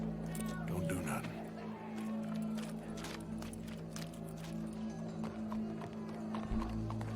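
Horse hooves clip-clopping in Red Dead Redemption II, a continuous trotting patter under a steady low hum, with voices talking over it.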